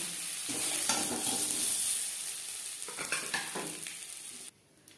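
Steady sizzling of potatoes frying in hot oil, with occasional stirring scrapes in a kadai, ending abruptly in near silence.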